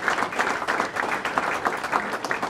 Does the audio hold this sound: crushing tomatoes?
no